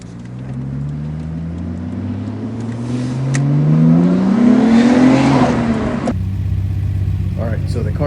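A restored Nissan R33 GTR with fresh spark plugs and no more misfires accelerates on a test drive, its engine note climbing steadily and loud inside the car, then dropping as it shifts and settles into a steady cruise.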